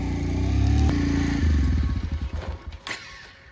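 A motorcycle rides past close by, its engine droning loud and then fading as it moves away, with some clatter near the end.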